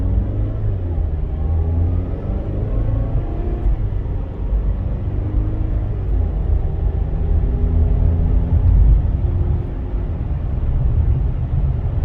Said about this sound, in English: So do that one more time, hit the brakes